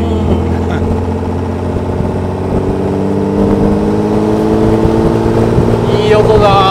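A classic British Alvis car engine runs steadily with a loud, close, continuous drone, while voices talk over it.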